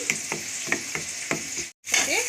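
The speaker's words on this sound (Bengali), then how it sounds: "দিয়ে ভালো করে আমি মশলাটা আগে ভেজে নিই" Chili powder and turmeric frying in a hot pan, a steady bright sizzle with rhythmic stirring scrapes about every half second, a brief cut, then sizzling resumes with a low hum and a faint squeak.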